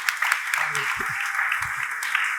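Applause from a gala audience rings out steadily, a bright even patter of many hands, with a voice speaking briefly beneath it.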